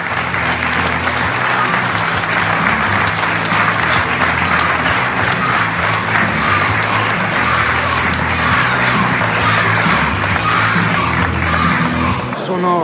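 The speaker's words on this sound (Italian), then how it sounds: "Un applauso forte" A large audience at a football club's centenary kit launch gives loud, sustained applause, dense continuous clapping mixed with scattered cheers for the whole stretch.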